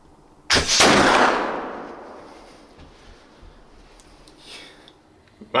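A flintlock rifle fires at a deer while hunting: one loud close blast with a brief flash crack before it, then a long rumbling echo that fades over several seconds outdoors, with no talking.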